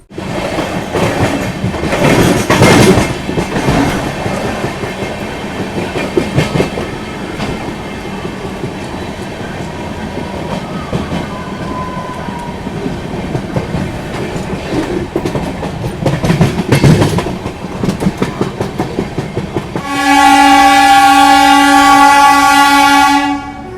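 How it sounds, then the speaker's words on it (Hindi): Amarnath Express train arriving at Muzaffarpur railway station in Bihar, with loud rumbling and clattering wheels on the rails for most of the clip, then a long, steady blast of the train horn near the end. "तो अब हम लोग की अमरनाथ एक्सप्रेस ट्रेन पहुंच चुकी है बिहार के मुजफ्फरपुर रेलवे स्टेशन पे"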